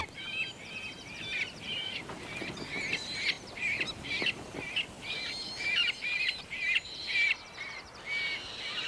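Bird of prey chicks squawk persistently in a Scottish nest, a dense run of harsh, repeated calls close by, rising and falling in bursts over a quiet background.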